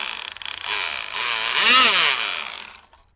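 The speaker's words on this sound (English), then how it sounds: "Broken something, something's rubbing, because it hit that curb." A WLToys 124016 brushless RC car whines at high pitch with a rough, rubbing buzz after hitting a curb, its motor rising and falling close by.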